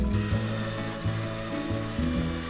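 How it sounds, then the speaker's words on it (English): Electric drill spinning a paint mixer through bee feed and water in a bucket, a steady whirring hum with slight pitch wobbles as the mixer churns, close and continuous with no talking. "And I use a paint mixer on a drill."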